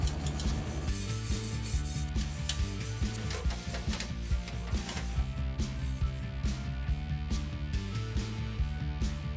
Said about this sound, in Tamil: ஒரு டூத் பிரஷ் எடுத்துட்டு இந்த தின்னரில் நல்லா டிப் பண்ணி இதில் வந்து நல்லா இந்த பெயிண்ட்டை சுரண்டி ஏற்றலாம்